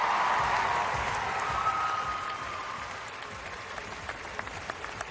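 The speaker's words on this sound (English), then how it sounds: "You see Russell Westbrook applauding." A crowd applauds at the 2025 WNBA draft after a pick is announced, a soft, distant wash of clapping that starts fuller and gradually thins out, with a few sharper claps standing out toward the end.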